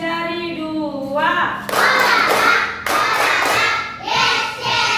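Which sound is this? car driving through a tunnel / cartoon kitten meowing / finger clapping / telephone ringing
finger clapping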